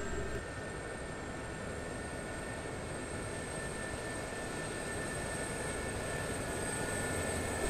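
A Gazelle helicopter in the DCS combat flight simulator idles on the flight line, giving a constant loud turbine whine and rotor rumble throughout with no pauses.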